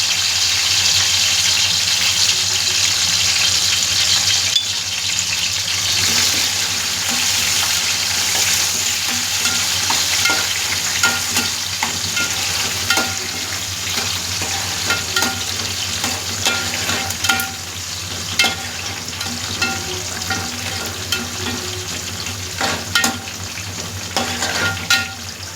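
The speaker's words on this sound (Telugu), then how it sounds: "దీన్ని తిరగమాత వేసేద్దాం." Garlic, onion and curry leaves being tempered in hot oil, with loud, continuous sizzling and crackling close by, broken by scattered pops and the scrape of stirring, with no talking.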